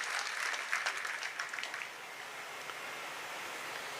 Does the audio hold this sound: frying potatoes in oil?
no